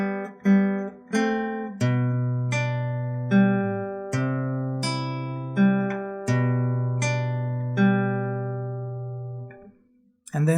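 A guitar plucks a gentle waltz, single notes and bass tones ringing out one after another in a steady lilting pattern, close and clear.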